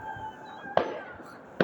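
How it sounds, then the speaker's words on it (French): New Year fireworks bursting outdoors, two sharp booming explosions a moment apart over a faint background hum. "Voilà, ça c'est un feu d'artifice"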